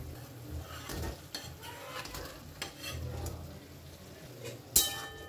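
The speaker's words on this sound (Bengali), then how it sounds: "এখন এর মধ্যে আমি দিয়ে দেব কেটে রাখা পনিরগুলো।" Soft stirring and light sizzling come from cut paneer pieces being mixed into spiced masala frying in oil in a pan, with faint utensil scrapes and one sharp metallic clink near the end.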